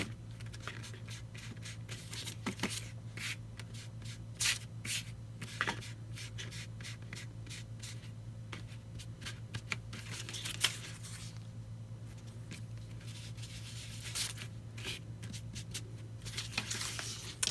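A paper doily being inked by hand for a journal page, giving soft, steady dabbing and rubbing strokes with scattered light taps and paper rustles, close and quiet, with no talking.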